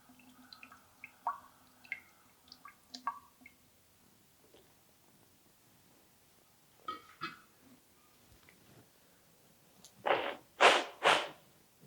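Water dripping and splashing during a neti pot nasal rinse, scattered faint drips and trickles near the start, then a few louder wet splashes and gushes toward the end, with no talking.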